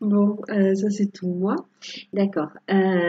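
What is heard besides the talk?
No everyday noise stands out behind the speech.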